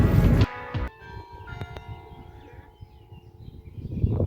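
Church bells ring out near a campsite, their sustained tones lingering after a louder opening burst, with a few distinct strikes and faint outdoor ambience.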